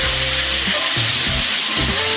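Chicken tongseng sizzles steadily in a pan while being stirred, with a continuous close frying hiss and soft rhythmic scraping strokes of the spoon running throughout.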